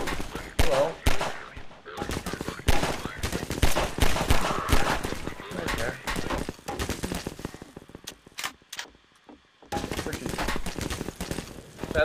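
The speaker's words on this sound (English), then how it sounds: "Who's shooting me?" Rapid bursts of gunfire in the shooter game Half-Life 2, loud close volleys of automatic fire broken by brief pauses, with talk mixed in between shots.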